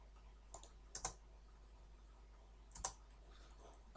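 A computer mouse clicks a few times, faint and close, with quiet pauses between the isolated clicks while working in Civil 3D design software.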